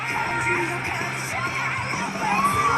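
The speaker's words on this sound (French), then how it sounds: "On peut l'applaudir s'il vous plaît." A cosplay contest audience at an awards ceremony applauds an honorable-mention winner, a steady wash of clapping and crowd noise with a few whoops, loud and continuous throughout.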